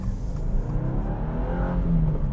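A 2023 Subaru WRX's 2.4-liter twin-scroll turbocharged boxer four accelerating hard, a deep, rising engine drone with rumbling low end, heard from inside the car without talk.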